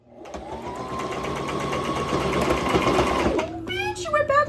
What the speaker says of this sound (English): I don't think I've ever sewed this close in my life.